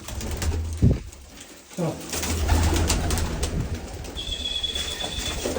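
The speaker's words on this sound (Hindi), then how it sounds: "बहुत सारे कबूतर बाहर आ गए हैं दोस्तों" Pigeons coo low and throaty amid a busy outdoor background of rustling and flapping, with a faint high whistle in the later part.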